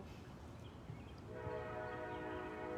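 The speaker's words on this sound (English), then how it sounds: "I don't think I've ever heard so many trains in my life" A train rumbles past, its steady roar building partway through, with a sustained horn-like tone riding on top.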